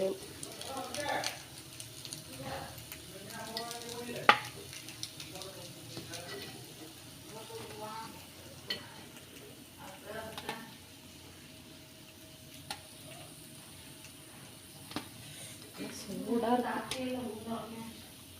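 Sweet paniyaram frying in a pan gives a soft, steady sizzle with occasional clinks and scrapes, heard under someone talking through most of the stretch.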